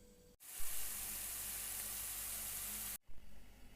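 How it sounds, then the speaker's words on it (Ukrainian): A steady, loud sizzle of chopped onions frying in hot oil, starting abruptly and holding an even hiss for a few seconds before cutting off. "і обсмажуємо цибульку на олії"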